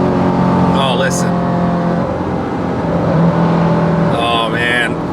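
A Mercedes-AMG C63 with the M156 naturally aspirated engine drones at steady revs under a loud, constant hum, while a person talks briefly near the start and the end.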